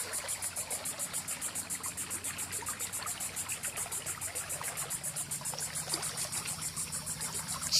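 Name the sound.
small waterfall on a flooded Florida trail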